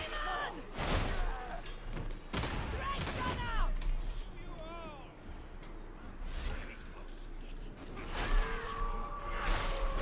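Gunfire in the video game Warhammer 40,000: Darktide, repeated loud shots and bursts in combat mixed with whooshes and game effects, with voices talking over the action.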